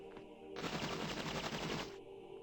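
A summoned airstrike in the video game Epic Battle Fantasy 2 fires a loud, rapid burst of gunfire lasting about a second and a half, alone over faint game sounds.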